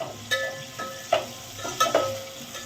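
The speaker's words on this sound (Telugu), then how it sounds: "మంచిగా కలిపేసుకుందాం" Onions stirred in hot oil in a pan, a soft continuous sizzle with several sharp scraping clinks of a utensil against the pan at irregular intervals, close by.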